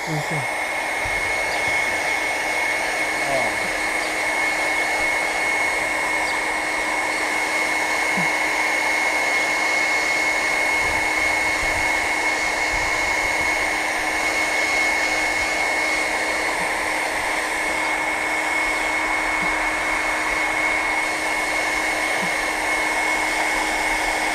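A hair dryer blows hot air to dry freshly applied stickers, a loud, steady whirring roar with a constant high whine that runs unbroken for over twenty seconds, with faint bits of talk beneath it.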